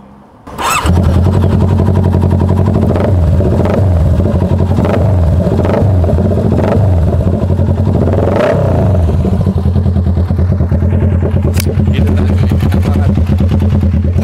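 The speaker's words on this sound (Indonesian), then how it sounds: "Pasti kalian kepo dong dengan suara yang ada di motor ini." A custom scrambler Kawasaki ER6n with a two-cylinder engine and handmade exhaust starts up and idles loudly up close, giving several sharp throttle blips over a steady, throbbing rumble.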